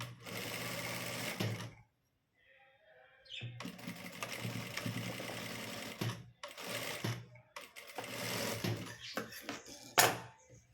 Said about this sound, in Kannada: ಈಗಿಲ್ಲಿ ಸ್ಟಿಚ್ ಹಾಕಬೇಕು ಒಂದು ಅರ್ಧ ಇಂಚಿಗೆ ನಾವು ಸ್ಟಿಚ್ ಅನ್ನೋದನ್ನು ಹಾಕ್ಕೋಬೇಕು